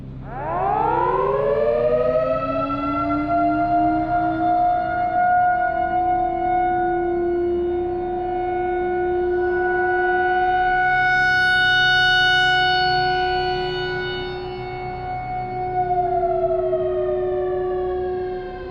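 A siren winds up from a low groan into a long, loud, sustained wail, swells slightly near the middle, then dips and settles, sounding alone without any voices.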